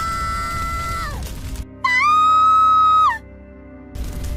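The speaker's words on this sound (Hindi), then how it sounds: "तभी जंगल की ओर से एक तीखी चीख गूंजी।" A sharp, shrill scream rings out in a Hindi forest story as a sound effect. It is a sustained high cry that falls away at the end, with a similar falling wail before it.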